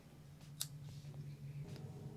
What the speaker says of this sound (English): Now I'm going to cut off the yarn here.